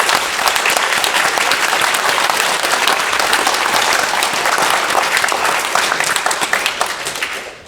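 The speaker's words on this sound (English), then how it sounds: "I appreciate the clapping" Dense, loud applause from the public at a Bristol council committee meeting, a sustained wash of clapping that holds steady for several seconds before tapering off at the end.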